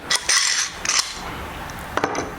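Metal clamps are handled and tightened together while framing a flag, giving a few close, sharp clinks and rattles in short bursts with quiet pauses between.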